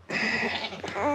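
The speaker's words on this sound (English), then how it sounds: "This is the softest little baby goat" A soft little baby goat gives a single loud, close bleat lasting about a second, wavering in pitch and rising at the end, with no talking.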